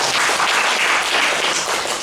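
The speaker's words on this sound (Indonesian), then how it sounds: "Tepuk tangan buat Tuhan" Loud, dense applause fills the room as a church congregation at an Indonesian prayer service claps together, a continuous, even roar of many hands without a break.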